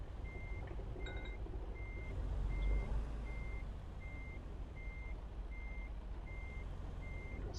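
Reversing beeps from a truck in American Truck Simulator, a steady series of evenly spaced electronic tones over a low idling engine rumble, with no voices.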